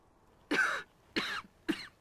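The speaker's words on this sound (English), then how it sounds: "We're gonna start this file with a cough?" Three harsh coughs come close together, the first longest and the next two shorter, close to the mic against a quiet background.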